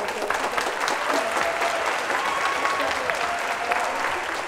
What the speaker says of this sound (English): We'd like the audience to give her a round of applause.